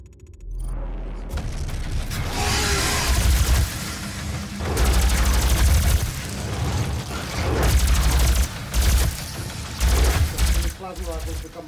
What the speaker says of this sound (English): the plasma rifles become my standard weapon